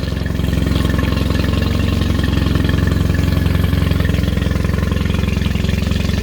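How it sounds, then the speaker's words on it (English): A Mercury 20 horsepower outboard motor idles loudly and close by after its spring startup, a steady, even chugging putter that holds constant for several seconds with no voices. "that is how you do a proper spring startup for a 20 horsepower Mercury Outboard engine"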